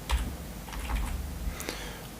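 Keys tapped on a computer keyboard while an email address is entered, a short run of light, uneven clicks over a low background hum, fairly close.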